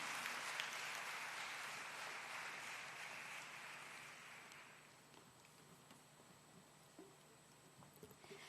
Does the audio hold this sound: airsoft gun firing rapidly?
no